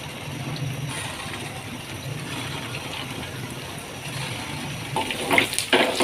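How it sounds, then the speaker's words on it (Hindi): Chicken and potato koftas slipped one by one into hot oil in a pan, giving a steady bubbling sizzle that swells into louder crackling pops near the end. "ऑयल गर्म हो गया तो अब हम इसमें कोफ्तों को रखते जाएंगे"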